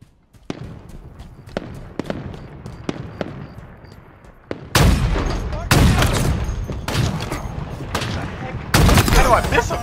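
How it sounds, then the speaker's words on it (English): Gunfire in a Halo Team Snipers match, sharp rifle shots cracking out one by one before louder, denser bursts of fire and blasts take over, with a player talking throughout. "I swear, I'm shooting right at this dude."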